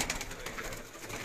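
A twelve-year-old Shaheen Teddy pigeon cooing: a soft, continuous low burble with faint bird calls over steady background noise.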